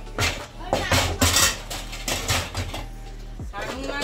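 Dishes and utensils are put away in a home kitchen with a run of loud, close clanks, clinks and clatters that come in quick bursts, and voices talk in between.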